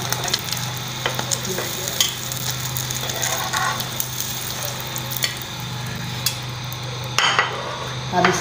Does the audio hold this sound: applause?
no